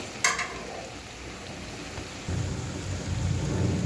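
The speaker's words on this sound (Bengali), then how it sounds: "একে একে এভাবে আস্তে জাল করে সবগুলো ভেজে নিতে হবে" Pumpkin leaf fritters frying in oil over low heat give a steady, close crackling sizzle. A sharp pop comes near the start, and the hiss thickens and grows a little louder toward the end, with no voices.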